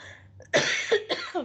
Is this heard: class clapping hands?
no